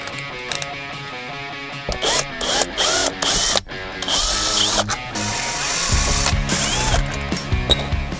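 A power drill unscrews the counter-frame of a camper skylight from underneath, whirring in repeated bursts with ratcheting clicks and short pauses between screws, loud and close.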